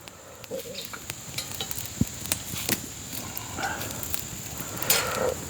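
Kielbasa sizzling over a stoked campfire outdoors on a day hike, a steady close crackle and hiss with scattered sharp pops and a few brief knocks, no voices.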